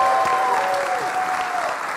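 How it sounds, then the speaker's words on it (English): Conference crowd at ShmooCon 2019 claps steadily for a brief moment, with a faint high whistle-like tone sliding down over the applause. "Big round of applause for Bob."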